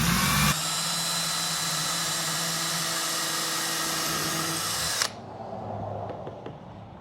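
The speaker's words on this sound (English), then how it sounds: "Now we're just going to drill a hole through the end of this clapper." A power drill whines steadily for several seconds drilling a hole through the end of a wooden clapper, then cuts off abruptly, leaving a few faint clicks in a quiet room.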